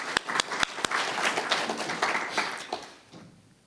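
Audience applause at a reading and artist talk, opening with a few sharp separate claps before spreading into steady clapping from the crowd, then fading out toward the end.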